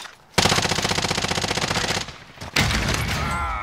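Rapid automatic gunfire from a video game firefight bursts in loud and dense, runs for about a second and a half, cuts out briefly, then returns in a second sustained volley, with no voices over it.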